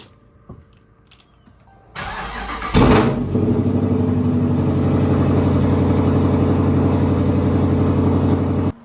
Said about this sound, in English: Get a little cold start for y'all real quick.